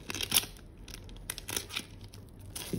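Adhesive tape torn and wound tightly around a homemade lead-acid battery, giving a few short, sharp tearing and crinkling bursts at close range with quiet gaps between them.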